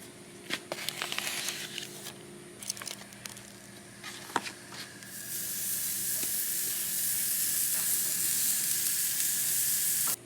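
A bone-free grass-fed ribeye steak sizzles in a hot pan, starting with scattered pops and crackles, then swelling into a loud, steady hiss from about midway on.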